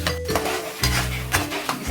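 Chopped onions sizzle in hot oil in a frying pan while a utensil stirs them in a few scraping bursts, with a steady frying hiss underneath.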